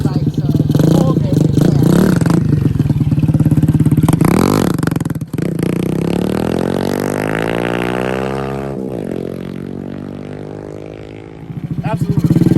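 A 125cc SSR motorcycle engine runs steadily and loud throughout, with a rev swell and dip midway, while people talk over it.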